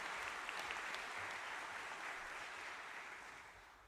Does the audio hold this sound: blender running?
no